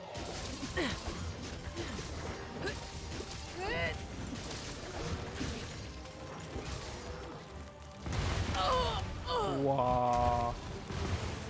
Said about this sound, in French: Ah ouais, c'est des explosions malades.